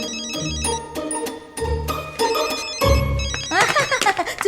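A mobile phone ringtone plays a bright repeating melody inside a hospital ward, loud and close, with voices or music under it.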